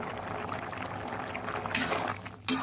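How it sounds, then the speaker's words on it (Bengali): Kabuli chickpeas boil in a pot, a steady bubbling and gurgling that holds throughout, with brighter, louder surges of rolling boil near the end. "ছোলাগুলো ফুটে উঠেছে"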